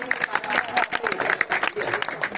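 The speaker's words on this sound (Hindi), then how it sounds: "जोरदार तालियां हो जाए इनके लिए।" Dense crowd applause at a magic show, rapid overlapping claps, loud and steady throughout, with some voices mixed in.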